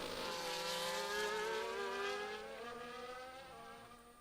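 Formula 1 race cars screaming past in a racing video game at Bahrain, high revving engine whine with harmonic tones that sweep downward as the cars pass, loud and steady with no talk.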